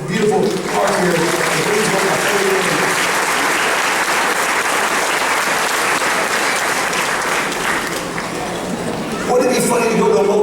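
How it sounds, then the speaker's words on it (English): Theme-park audience at Busch Gardens Tampa applauding, a loud sustained burst of many hands clapping filling the space before tapering and briefly swelling again at the end. "So a round of applause for this beautiful park here."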